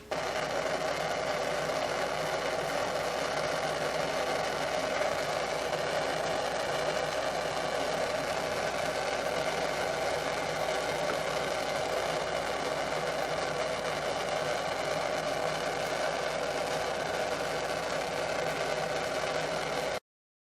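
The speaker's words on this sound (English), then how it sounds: "I'm going to probably have to ream those holes out a little bit bigger to make these work" A power drill runs steadily for about twenty seconds, reaming holes in a nylon case handle with an even, continuous whir and no pauses.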